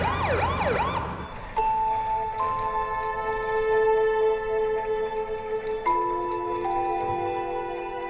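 An ambulance siren sounds, carrying a paramedic crew to Cedars-Sinai hospital: a fast warbling wail shifts into a loud, steady two-tone horn-like wail that keeps going to the end of the clip.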